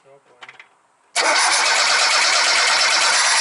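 A VAZ 2107 car engine starts after a carburetor repair. A brief voice comes first, then the engine catches abruptly and settles into a loud, steady running roar close by.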